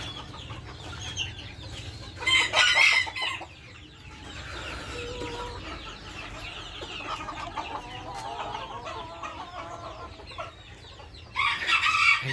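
Brahma chickens, including chicks and large laying hens, cluck and call steadily in a busy farmyard, with a couple of louder bursts of squawking standing out near the start and the end.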